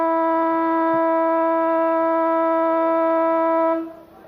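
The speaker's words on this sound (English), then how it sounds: "As the siren goes for a 3/4 time" A sports ground siren sounds three-quarter time at a 1991 Christian League Australian rules football grand final in north-west Tasmania, one loud, steady, sustained tone lasting about four seconds before cutting off.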